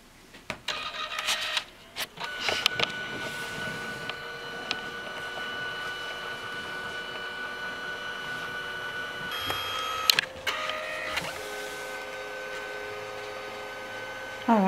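A Liene photo printer runs a print job: a mechanical whirring and humming with clicks and clunks at the start and again near the end as the paper moves through, close by. There is a little background voice.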